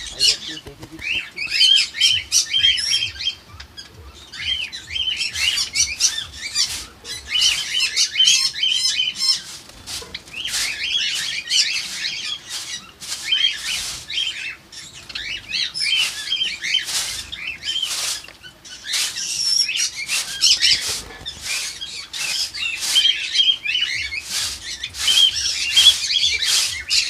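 Java sparrows chirping inside their cage while it is being cleaned, a dense run of sharp, bright chirps and squawks close by, nearly continuous with brief pauses and occasional rustling of wings.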